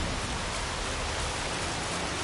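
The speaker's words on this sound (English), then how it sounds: "Hey, I love the rain." Steady, dense rainfall hisses evenly in the forest of The Witcher 3: Wild Hunt, a continuous broadband patter with no pauses and no talk, moderately loud and close.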